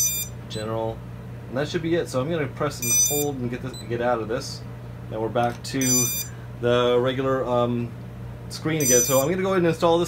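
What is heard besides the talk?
camera beeping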